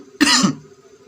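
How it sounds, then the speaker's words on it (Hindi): A single harsh cough, loud and close, followed by a quiet background hum. "खांसी हो गया है क्या बताऊं"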